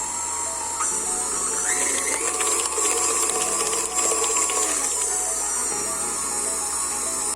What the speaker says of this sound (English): Then we will just have the mixer help us to do the final mixing for this batter.